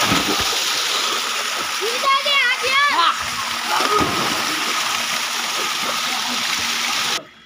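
Water gushes steadily and loudly from a borewell at a farmhouse, a continuous splashing rush with voices and a child's speech briefly heard over it.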